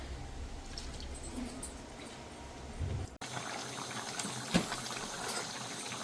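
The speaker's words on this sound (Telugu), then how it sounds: "బోటి ములిగినంత వరకు నీళ్ళు వేసి కొంచెం ఉడకనివ్వాలి" Gongura boti curry simmers in water in a pot, giving a steady soft bubbling and watery hiss that breaks briefly partway through and then continues a little brighter, with no talking.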